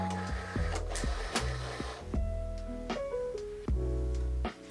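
A Cricut cutting machine feeds vinyl through with steady motor whirring and stepping tones, punctuated by a series of clicks and brief mechanical clunks, close and fairly loud with no talking.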